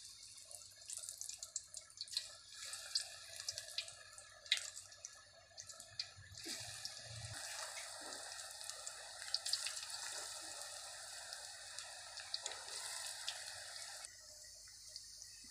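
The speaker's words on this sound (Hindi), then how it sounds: "ये देखिए हमारा घी जो है वो गर्म हो गया है। अब हम इसमें ये पकोड़े बनाएंगे।" Pakoras frying in hot ghee in a kadhai, giving a steady close sizzle with scattered sharp crackles and pops that swell in the middle and continue without talk.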